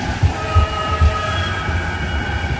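A tram rolls by in wet, rainy weather with a steady rumbling drone, faint rhythmic thumps from the wheels and a high metallic whine on top, close and fairly loud, with no talking.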